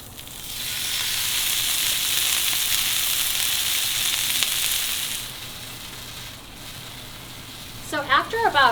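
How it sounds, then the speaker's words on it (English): Chateaubriand beef sears in a hot pan with a strong, continuous sizzle. The sizzle eases off after about five seconds, and a voice begins at the very end. "So after about 8 or 9 minutes, all of your beef is beautifully seared."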